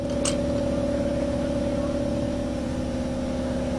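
A Briggs 9 hp lawnmower engine runs steadily at a fairly even pitch with a sustained hum, moderately loud and alone apart from a brief sharp click near the start.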